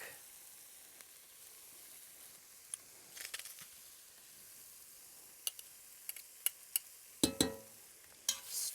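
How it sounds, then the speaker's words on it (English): Crushed garlic hits a pan for bean and bacon soup, a quiet, low sizzle with scattered sharp clicks and scrapes, growing busier and louder toward the end. "Crush in some garlic."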